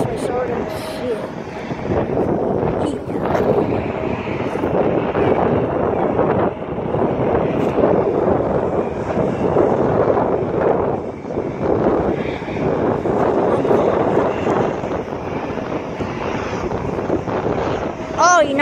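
A United airliner taking off at Springfield-Branson National Airport builds a broad, loud engine roar lasting the whole stretch, mixed with wind buffeting on the microphone and people talking nearby.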